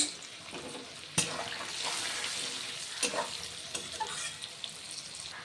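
Potatoes sizzle and fry in a pan with turmeric and chilli powder while being stirred, with steady frying hiss and scraping stir clatters throughout, close and fairly loud, no talking.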